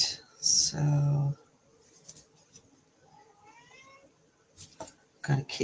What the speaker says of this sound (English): got a kitty that wants to be a part of this